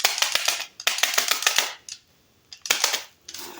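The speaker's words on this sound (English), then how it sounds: "take it and get the air hose and blow some of that off" An air hose blasts grime off a cruddy carburetor part from a Stihl 034 chainsaw during a rebuild, in two loud hissing bursts full of crackly, rattling spurts, with a short pause between them.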